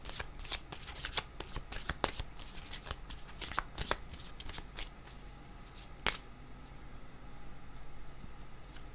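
Playing cards shuffled during a tarot-style reading, giving a run of quick crisp riffling snaps and flutters over several seconds, close and fairly quiet, with no talk.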